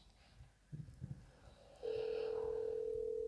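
A steady electronic ringing tone sounds on a phone line after a few faint bumps and murmurs, continuing unbroken to the end.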